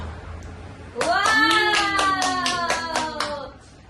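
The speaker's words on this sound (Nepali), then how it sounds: "ताली ल ल ल सबैले ताली" Rhythmic hand clapping keeps an even beat of about eight claps while a voice holds a long, loud sung or shouted note over it.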